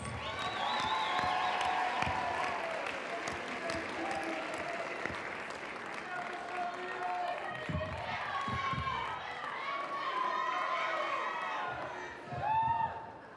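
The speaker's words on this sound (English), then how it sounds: "Let's give them all a long round of applause" A school pageant audience gives a long round of applause for the sound and lights crew, dense sustained clapping mixed with scattered cheers and shouted voices from the crowd, ending in a brief louder burst.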